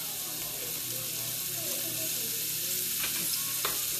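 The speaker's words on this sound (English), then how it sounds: "Pop those right in there and saute those up a little bit so they're nice and caramelized" Onions and garlic sizzle in a pan of chicken drippings, a close, steady frying hiss with a few scraping stirs near the end.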